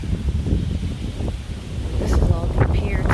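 Storm wind rushes through trees during flooding and high winds, a loud continuous roar with gusts that swell partway through, close to the microphone.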